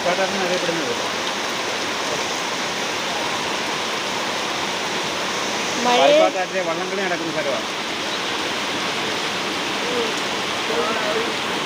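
Steady rain hisses throughout by the swollen Payippad river, with a voice briefly speaking partway through.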